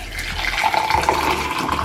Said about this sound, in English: then I'll add my hot water.